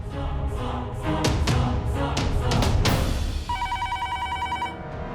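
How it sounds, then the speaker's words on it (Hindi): A telephone rings in a house during a call in a Hindi TV drama, its electronic trilling bell warbling in a short burst near the end after a stretch of thumps and busy background sound. "तुमने करण के घर फोन किया है"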